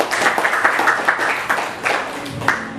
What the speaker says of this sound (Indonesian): terima kasih aplaus